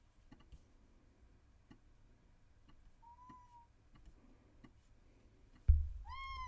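A kitten gives a couple of faint meows indoors among quiet clicking and ticking, followed by a sudden louder thump and a clearer upward-rising meow near the end.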